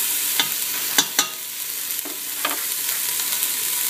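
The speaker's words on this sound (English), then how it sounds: "I'm going to go ahead and get these onions a little sauteed a little bit" Onions sautéing in leftover beef grease in a pan, a bright close sizzle broken by a few quick spatula scrapes and clacks, steady and fairly loud with no talking.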